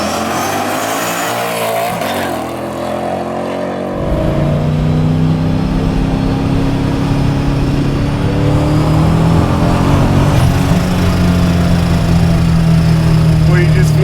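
A 700 hp supercharged LS-swapped 1974 Toyota Celica widebody accelerating hard, a loud, close engine roar that surges and then holds at high revs, with gear changes audible as the pitch steps.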